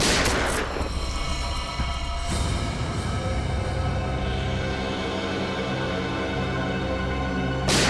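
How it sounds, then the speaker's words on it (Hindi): A burst of sharp gunshots cracks out at the start, followed by a sustained, droning ring and dramatic background music. "दया गोली चलाओ उस पर, चलाओ गोली, चलाओ गोली।"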